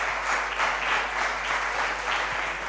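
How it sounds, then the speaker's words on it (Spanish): A church congregation claps steadily in a large hall, moderate and continuous applause with a faint low hum beneath it. "Por favor, denle un aplauso a Dios por eso."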